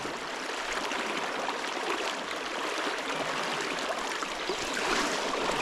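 A fishing river rushing through shallow riffles, a steady broadband wash of moving water with fine splashing texture, close and continuous with no voices.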